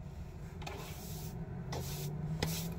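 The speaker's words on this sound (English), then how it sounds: "You can hear it already. The pump is pumping." On its first fire-up, the fuel pump of a Lavaner Alpine Pro diesel heater ticks with a few sharp clicks roughly a second apart over a steady low hum.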